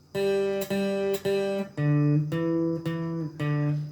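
A guitar picks out the melody of Old MacDonald, one clear sustained note at a time in a steady rhythm, close and alone without voices.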